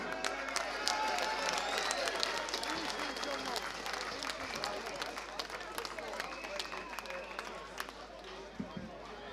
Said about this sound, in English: give a massive round of applause for Pastor Wally as he comes up to speak to you now